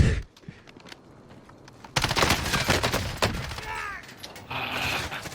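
Warzone gunfire from a video game match arrives as a sudden loud burst of rapid shots partway through. The mix is busy with game effects, and the moments just before it are quieter.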